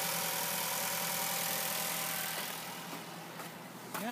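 Engine of a 2012 Ford Focus SE idles after an engine air filter change, a steady close hum with a fixed tone that eases slightly quieter near the end, with a few faint clicks and no talking.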